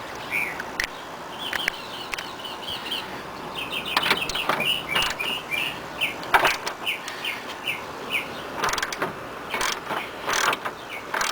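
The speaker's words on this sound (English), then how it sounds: "now I'm going to go ahead and use my ratchet" A ratchet wrench clicks in rapid bursts while working on the upper ball joint of a 1995-1998 Honda Odyssey, close and fairly faint, with scattered metallic taps and clunks between strokes.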